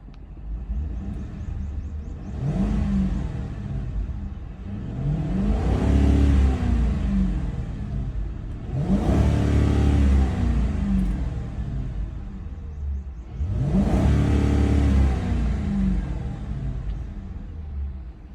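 A 2005 Mercury Grand Marquis engine, warmed up, is revved four times in a row, each rise swelling from idle to a strong rumbling roar that hangs briefly as if hitting a limiter, then drops back to a steady idle between.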